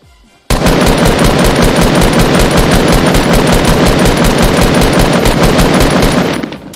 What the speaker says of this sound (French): Là, je vais lui mettre une balle.